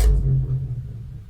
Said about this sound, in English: it's an 808 drum, and then I don't know what this technique is called, but I play it and then it sort of goes down like zzz